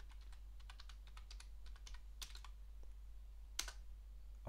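Quick, light keystrokes on a computer keyboard, a short irregular run of close clicks ending in a sharper key press, over a low steady hum.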